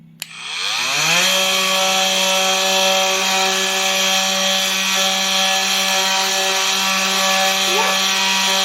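Motorcycle plastic sanded smooth with a power sander: the tool spins up within the first second into a loud, steady, close high-pitched whine that holds without a break to the end.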